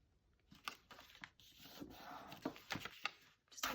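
Paper torn by hand for a junk journal bag, with faint, close, rough ripping strokes in short irregular bursts between quiet pauses.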